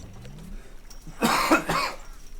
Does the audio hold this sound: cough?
yes